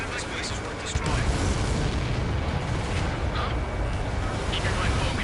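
An enemy transport is blown up in Ace Combat 7, setting off a loud, rumbling explosion that fills the whole stretch alongside dense combat noise and radio voices.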